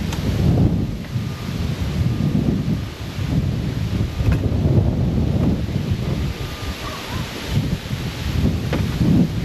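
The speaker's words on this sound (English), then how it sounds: "Well, it is windy." Strong outdoor wind buffets the microphone in heavy, continuous rumbling gusts that rise and fall, with no voices.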